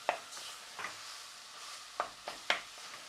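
Ground beef with onion, bacon, garlic and tomato puree being mixed in a pan: a soft background sizzle with several light, irregular scraping strokes of a utensil, close but quiet.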